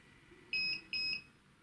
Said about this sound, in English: I think that beep might be because it's a little bit low on power